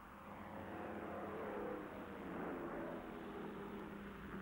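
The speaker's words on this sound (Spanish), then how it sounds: "todos los aviones que quedaban en la isla despegaron" Military aircraft take off from Midway island during the World War II battle, a distant, continuous engine roar and propeller drone swelling gently and holding steady, faint and alone.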